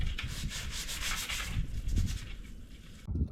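A dirty fishing baitcaster reel is scrubbed hard and continuously, making a loud, close, rough rubbing hiss with steady back-and-forth strokes and no pauses.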